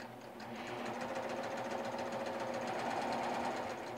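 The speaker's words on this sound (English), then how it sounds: "I'm ready to start stitching." A serger sewing machine stitching pintucks in fabric, running at a steady fast rhythmic whir with rapid mechanical chatter, close and continuous throughout, with no talking.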